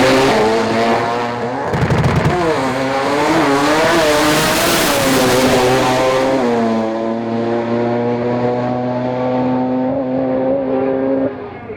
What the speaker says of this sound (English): Andrew Dawson was out in his 13B R100.